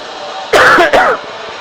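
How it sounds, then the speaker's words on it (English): Two quick, harsh throat-clearing coughs burst out close up, one right after the other, with no talking. "Having a little bit of a coughing problem there."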